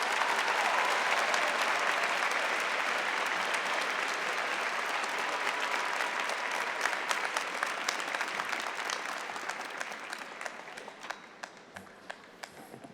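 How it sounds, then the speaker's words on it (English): Loud, sustained audience applause at a university undergraduate commencement ceremony, a dense wash of clapping that holds steady and then thins toward the end with a few distinct claps. "Let's give him one more round of applause."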